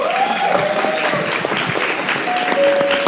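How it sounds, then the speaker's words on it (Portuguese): Crowd at a church couples' event claps for the band, a steady wash of applause with a sustained musical tone above it, moderately loud and continuous throughout. "Galera, vamos aplaudir a banda?"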